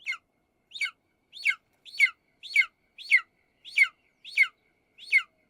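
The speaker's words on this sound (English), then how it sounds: "The eagle screech is a hawk's." A hawk's screech standing in for an eagle cry in a musical: about nine sharp, descending high-pitched cries repeated at an even pace, each separated by silence, clear and close.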